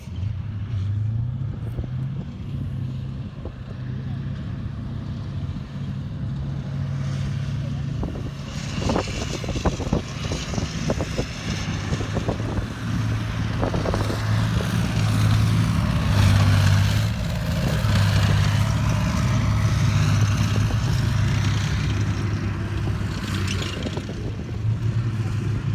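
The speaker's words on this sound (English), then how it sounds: "So here we have another look at our Iraqi Soviet vehicles." Iraqi-operated Soviet military vehicles roll past during a parade demonstration at a tank museum. Loud, sustained engine rumble with track clatter rises and falls as they drive by, and the noise grows heavier toward the middle.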